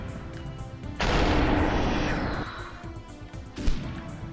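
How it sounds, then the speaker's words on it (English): Gunfire in the slow-motion shooter game Superhot: a sudden harsh burst of shot noise that fades over about a second and a half, followed later by a sharper single crack. "someone's shooting at me"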